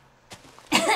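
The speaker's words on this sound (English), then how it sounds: "That was me honestly clearing my throat." A person clears their throat, a short rasp followed by a louder, harsher burst, close and alone.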